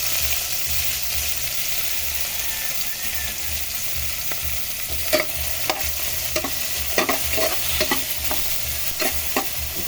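Garlic fries in a pan with a steady, loud sizzle while a utensil stirs it, adding scattered scraping clicks and taps over the hiss.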